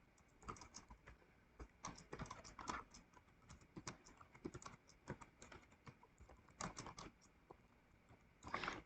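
Quiet, close keystrokes on a computer keyboard, tapped in uneven bursts with short pauses and a few louder clicks, and no talking.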